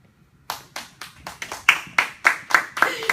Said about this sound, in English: Please give a round of applause to the author of the story, The Glass Castle, Jeanette Walls.